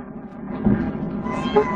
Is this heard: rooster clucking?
no